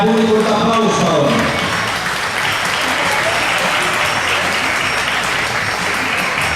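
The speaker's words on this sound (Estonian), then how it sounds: "publikult aplaus palun" An audience applauds at an Estonian cup competition, dense, steady clapping that fills the whole stretch at an even, fairly loud level without letting up.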